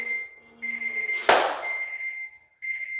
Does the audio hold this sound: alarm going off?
yes